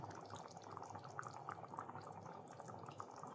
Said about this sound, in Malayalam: അത് തിളച്ചു വന്നു.